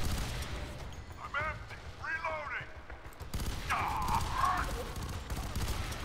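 Gunfire in F.E.A.R. 3 rattles in rapid bursts with heavy impacts, while shouting voices and combat noise cut in between the volleys.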